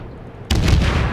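A ship's main battery fires in the naval combat game World of Warships, a sudden loud boom after a brief quiet lead-in, followed by a rumbling roar that sustains to the end.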